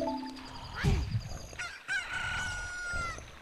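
A rooster crows in The Legend of Zelda: Ocarina of Time after a chick hatches from an incubated egg, a loud game crow followed by a few clucks and warbling chiptune-like tones, with no talk.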